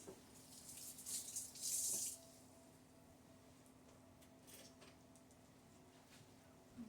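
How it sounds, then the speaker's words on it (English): Hands washed under a running kitchen tap while making French toast: a short, fairly close burst of flowing water lasting about two seconds, then faint clinks and quiet room noise. "I'll wash my hands."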